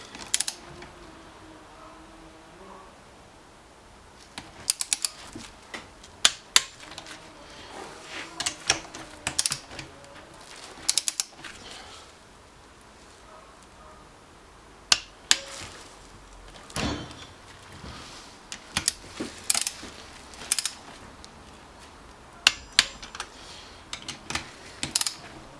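A ratcheting wrench torques the bolts on a jet ski engine in a cross-hatch pattern. It makes bursts of quick, light clicking and ratcheting with pauses between them, close by, against a quiet background.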